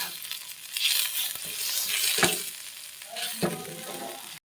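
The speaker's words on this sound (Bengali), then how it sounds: "ভালো করে একটু তেল দিয়ে ভেজে নেবে" Wild field greens fry in oil in a home kitchen pan, a steady broadband sizzle with a few sharp stirring clicks and scrapes, close and fairly loud, with no voices.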